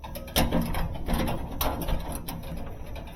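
A ratchet with an 11/32 socket works on the thermostat of a Sub-Zero 550-511 refrigerator, giving a close, steady run of rapid mechanical clicking and grinding with a few stronger clacks, alone without any voices.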